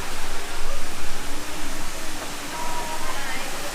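Waterfall or fountain at Howard Springs Nature Park in Australia, a continuous broadband rush of falling water, loud and close, with a gently pulsing level and no clear talk over it.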